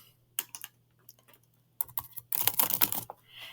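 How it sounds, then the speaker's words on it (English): Someone types on a computer keyboard nearby, with scattered single keystrokes at first and then a quick, dense burst of clicking near the end. No one speaks. "I could type this in."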